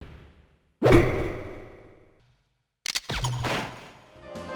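Two sharp swooshing impacts with a bright shimmering tail, the first ringing out before a short silence, then a second burst with a crackling swish: the powershield cue from Super Smash Bros.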